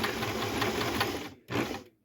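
A Janome 11706 sewing machine stitches a zigzag seam, its needle clattering in a steady rapid rhythm close up, pausing briefly before a second short burst.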